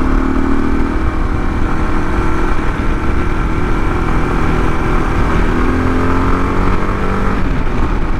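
Kawasaki KLR 650 motorcycle engine pulling hard under acceleration, a steady loud drone with rising pitch that holds close and continuous throughout, with no talking.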